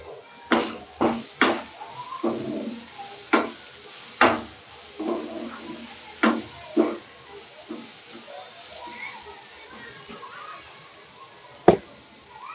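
Spice masala with a little ginger frying in a pan for a cabbage dish, soft sizzling under sharp spatula knocks and scrapes that come in an irregular cluster, then sparse, with one last clack near the end.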